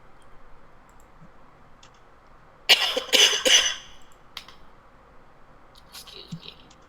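A short burst of close coughing, two or three rough hacks in quick succession, surrounded by quiet room noise and a few faint clicks.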